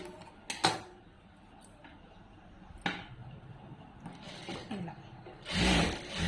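A sewing machine stitches a blouse, with short bursts of whirring and clicking separated by pauses, close and moderately quiet, ending in a louder sustained run of stitching.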